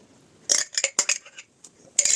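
A spoon stirs pie batter mixed with mayonnaise in a bowl, giving bursts of light metallic clinks and scrapes in an irregular rhythm, close and fairly quiet with no talking.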